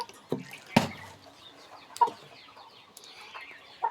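A chicken clucks in short, scattered calls near a child drinking water, mixed with sharp clicks and knocks and a faint background murmur.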